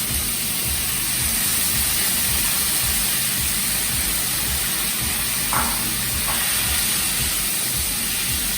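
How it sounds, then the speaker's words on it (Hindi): Four chopped tomatoes hit very hot oil in a pan for a potato sabzi, giving a loud, steady hiss and sizzle that continues evenly and close by, with no talking. "Now the oil is very hot, so immediately I will add the tomatoes"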